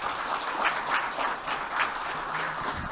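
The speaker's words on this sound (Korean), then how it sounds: "오늘 좋은 강연 해주신 교수님께 큰 박수 부탁드리겠습니다" Attendees at a breakfast lecture forum applaud the professor after his talk, a sustained, even round of many people clapping that fills the room steadily without speech.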